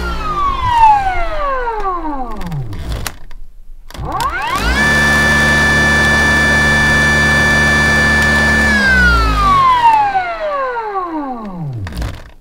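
An electric motor driven by a skateboard VESC on a sailboat whines up to high RPM, holds a loud steady tone, then winds down. Spin-ups and spin-downs repeat as sweeping whines, close and without talk.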